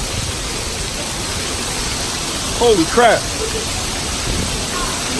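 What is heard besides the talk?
hail falling outdoors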